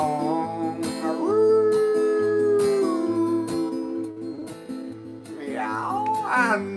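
A voice sings a long, rising and wavering howl imitating a wolf over a rhythmic musical backing, ending with a couple of shorter yipping howls.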